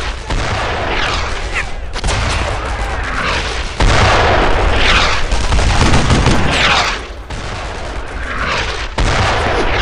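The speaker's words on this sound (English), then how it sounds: "That sure is a lot of German fucking mortars." German mortar fire in the World War II shooter Brothers in Arms, loud repeated booming blasts and crackling gunfire in a dense, chaotic battle soundscape with shifting explosions throughout.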